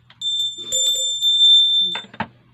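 A bright bell chime rings and holds a sustained ringing tone for nearly two seconds, clear and up close, ending with a short rattling clatter.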